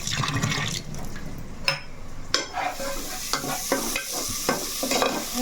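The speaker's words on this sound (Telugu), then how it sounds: "ఉల్లిపాయలు అయితే వేగిపోయినాయి చక్కగా" Onions frying in a pan, a steady close sizzle broken by scraping and stirring strokes of a spatula at irregular intervals, with no voices.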